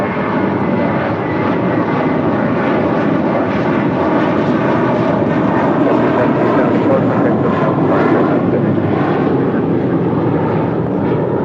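An airliner departing on a flight to Newark: a loud, continuous engine roar with a dense, steady drone that holds for the whole stretch.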